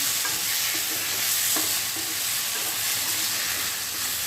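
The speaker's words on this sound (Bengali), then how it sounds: "এর সাথে যে মিশ্রণটি আমি তৈরি করেছিলাম পেঁয়াজ রসুনের, সেটিকে মিশিয়ে দেব" Potatoes frying in a pan for kasundi aloo dum as an onion-garlic paste is stirred in, giving a steady, close, dense sizzle with occasional scraping clicks of stirring throughout.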